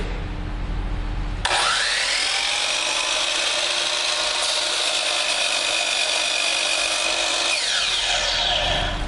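A power saw spins up and whines steadily as it cuts through wood for a duck call, loud and close, then winds down near the end.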